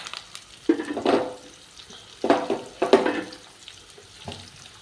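Mustard seeds, fenugreek, onion, two green chillies and two dried red chillies frying in a pan for a tomato egg pulusu, a low crackle broken by several louder bursts of stirring and sizzling, with no voices.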